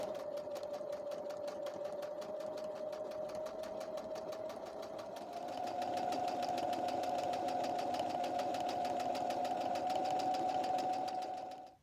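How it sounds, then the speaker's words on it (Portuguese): A sewing machine runs continuously, stitching the hem of a dress, its fast even mechanical whir steady throughout and rising slightly in speed partway through, with no voices. "agora eu vou começar a fazer a minha costura"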